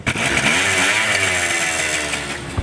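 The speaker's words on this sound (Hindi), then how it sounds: "हल्का सा सेल्फ स्टार्ट, बटन पुश किया, स्कूटी बाइक होगी स्टार्ट।" A Honda Dio two-stroke scooter engine catches on the electric starter and runs, giving a close, buzzy idle that holds steady for a couple of seconds.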